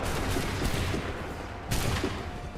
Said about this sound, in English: Just start shooting, boys